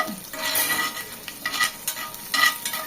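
Ginger, garlic and green chillies stir-frying in a pan for coriander chutney, a steady close sizzle with bursts of scraping stirring, alone with no voices.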